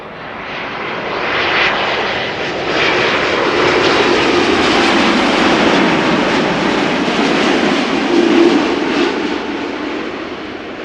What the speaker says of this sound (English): TUI Dreamliner coming in.